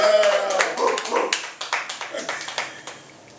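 Brief, scattered clapping and cheering from a small audience at a recovery-themed arts event in a bookstore, a few quick bursts that fade out within seconds, mixed with voices.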